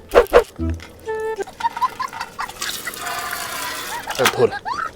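Water splashes and trickles as it is poured into a container, with a voice speaking around it.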